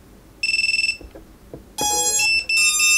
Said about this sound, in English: You can hear the beeper of the Diatone.